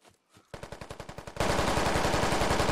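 Gunfire erupts in the Squad Ops combat game. A few isolated shots give way to a rapid, evenly paced burst, then a louder, denser stream of automatic fire, all close and without talk.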